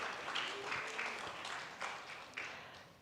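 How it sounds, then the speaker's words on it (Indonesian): A small crowd applauds at a university professorship inauguration ceremony, with a soft, even patter of clapping that lasts a few seconds and fades slightly toward the end. "Tepuk tangan Pak Iwan."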